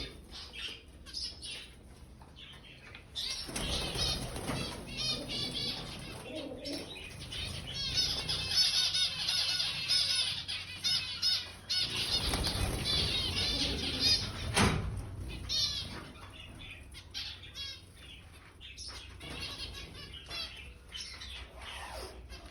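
Pigeons flap their wings inside a cage shared with an Indian bulbul, bursts of fluttering mixed with chirps and squawks close by, lasting several seconds at a time.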